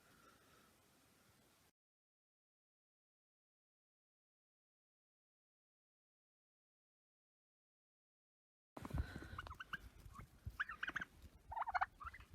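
Faint static at the start, then a long silence, followed by turkeys gobbling in bursts amid outdoor noise.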